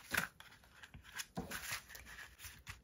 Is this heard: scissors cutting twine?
yes